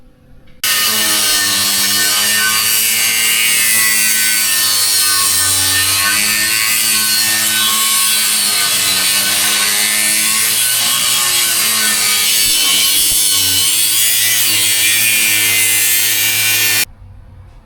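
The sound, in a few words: cutting down a metal oil pan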